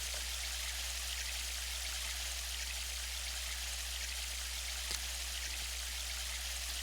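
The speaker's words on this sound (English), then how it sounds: "Nothing like waking up to the sound of streaming water in the back." Steady, continuous rush of streaming water in the video game Sonic Adventure. It is an even, unbroken hiss with no talk over it.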